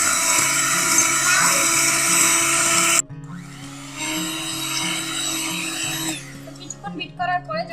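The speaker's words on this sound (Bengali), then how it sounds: "এখন আমি ভালোভাবে ফোমটা করে নেব।" An electric hand mixer whirs loudly while beating eggs and sugar into a foam for a stovetop cake, running at a high speed, then dropping to a lower hum before cutting out amid faint clinks.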